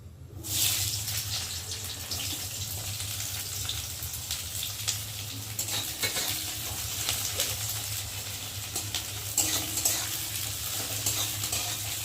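Chopped onions with bay leaf fry in hot oil for a chicken curry, a steady loud sizzle with occasional stirring scrapes running throughout, no talking.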